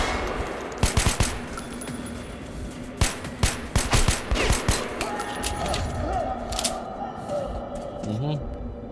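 Gunfire in Metro: Last Light Redux, with a cluster of sharp close shots near the start, then another burst of rapid cracks a few seconds later. A continuous rumbling game background runs underneath, and someone talks over it.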